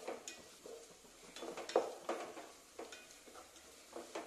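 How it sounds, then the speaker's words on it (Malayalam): Onions with salt sautéing in a pan for a taro stem stir-fry, with soft continuous sizzling and stirring scrapes, a few louder spoon-against-pan knocks, faint and steady throughout with no talking. "നന്നായി വഴറ്റി കൊടുക്കുക."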